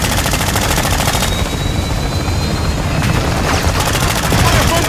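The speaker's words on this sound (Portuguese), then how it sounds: "Olha quanto tiro!" Rapid, relentless gunfire in the video game Call of Duty Warzone, machine-gun bursts and overlapping shots, loud and continuous with booms mixed in.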